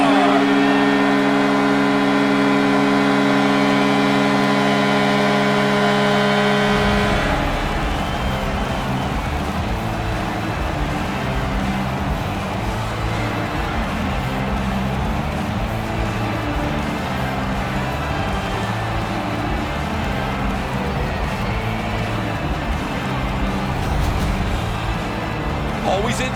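Goal horn from the hockey video game NHL 19, a loud sustained multi-tone blast for about seven seconds, then crowd roar and game noise underneath continuing to the end.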